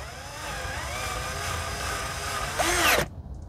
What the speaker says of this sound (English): Really happy with my new drill